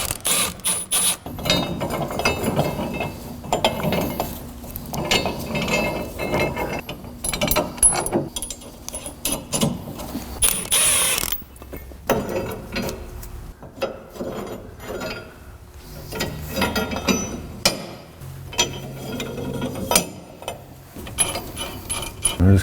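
A power tool zips and ratchets on the U-bolt nuts of a truck's axle during a driveshaft job, loud repeated bursts with pauses and clanks of metal between them.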